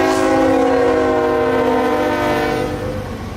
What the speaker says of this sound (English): Here is a quick example of a DPU locomotive being used on a CSX northbound intermodal QO26 coming through Folkston,